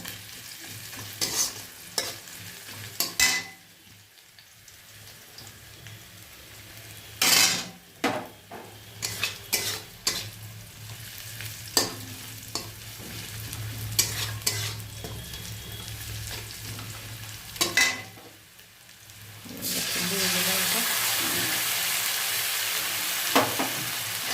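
Sliced onion fries in hot oil with whole garam masala and bay leaf in a home kitchen. A steady sizzle runs under repeated stirring scrapes and utensil clanks, swelling into a loud, hissing burst near the end.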